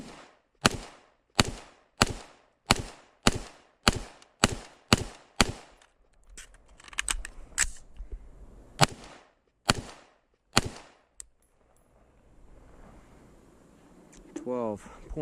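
Gunshots from a SIG Tread M400 AR pistol at an outdoor range: a rapid string of about ten loud, sharp reports in steady rhythm, then a few more spaced shots, with brief talk near the end.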